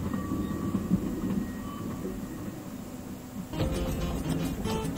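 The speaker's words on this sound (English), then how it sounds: "Oh, train! Bye-bye!" A train rumbles past in the video game Mexicana: Deadly Holiday, a low, steady rolling drone that swells into a louder rattling clatter near the end.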